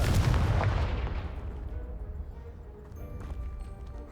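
A Confringo blasting spell in Hogwarts Legacy detonates as a loud, booming explosion, then decays into a rumbling tail with scattered debris clatter over several seconds.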